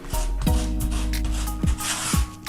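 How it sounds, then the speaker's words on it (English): Grout being forced into tile joints on a sample board with a tool, giving repeated scraping, rubbing strokes at close range with a few sharp knocks. "I'm forcing the grout, as you can see, into the joint as you would normally."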